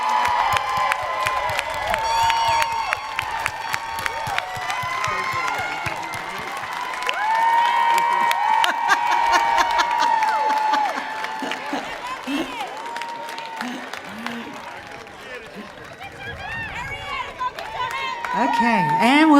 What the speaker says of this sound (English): a big round of applause for our most recent class graduates, the amazing class of 2021